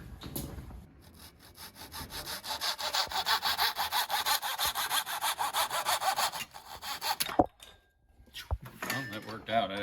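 Hand saw cutting a poplar wedge for an axe handle, a fast rhythmic back-and-forth rasp of close, steady strokes for several seconds, then stopping with a few knocks and brief talk.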